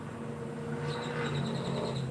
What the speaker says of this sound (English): The birds are here. They're talking.